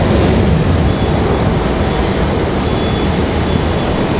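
A United airliner takes off at Raleigh-Durham airport on a wet runway, heard as a loud, steady, broad engine roar filling the whole stretch without letup.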